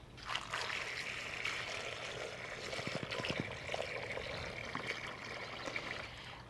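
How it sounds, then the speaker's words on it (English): Water pours steadily into a bucket with a drainage hole and rocks in a garden, a continuous splashing rush with a few sharper trickles partway through. "Then I fill the bucket with some water."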